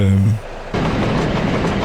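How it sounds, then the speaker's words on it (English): A train in the city-building game Workers & Resources: Soviet Republic starts with a brief tonal horn-like sound, then moves into a steady rumbling clatter of running wagons. "yes, Lisa, the original train, is still going strong"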